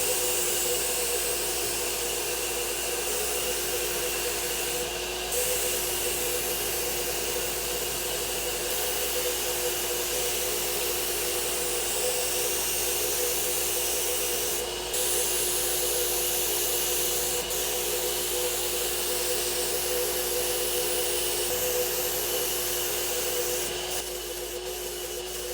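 Steady spray-gun hiss laying a heavy coat of lacquer onto a soft pine panel door, a continuous broadband rush held for the whole stretch with only brief dips and no talk.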